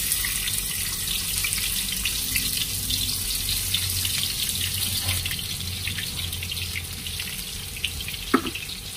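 Water runs steadily from a tap into a sink while sea snails are washed, a constant close rush with a few faint clinks and one brief knock near the end.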